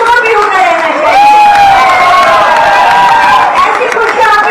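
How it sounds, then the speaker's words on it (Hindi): Applause and cheering from a crowd at an appointment-letter ceremony in Jharkhand, a dense, continuous wash of clapping and shouts that holds steady and loud throughout, with voices mixed in. "तालियों की गड़गड़ाहट लगातार और अचानक होती रहनी चाहिए आप सबकी तरफ से"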